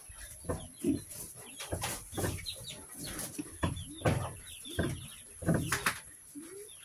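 A sick chicken with rattling, congested breath after a Terramycin LA injection makes faint, repeated raspy clucks and wheezes in an irregular rhythm, close by and quiet.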